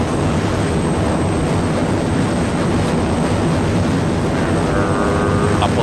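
A propeller airplane engine in the video game DayZ on Arma 2 drones steadily and loudly from start to end, a dense continuous roar with no pauses.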